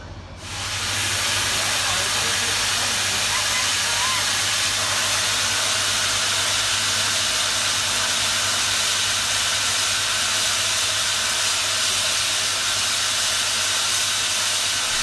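Steam locomotive 3526 departing with its first train to Hurstville at a Transport Heritage Expo in New South Wales, a loud continuous hiss of steam with a low steady rumble underneath, unbroken for about fifteen seconds.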